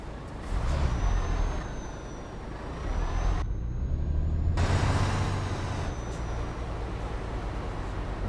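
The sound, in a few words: truck driving off in video game Euro Truck Simulator 2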